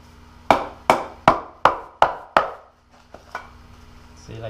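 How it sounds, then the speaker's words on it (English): Knife chopping catfish into smaller chunks on a cutting board, six sharp evenly spaced chops close up, then a few softer, quieter knocks. "we cut them into smaller chunks like this"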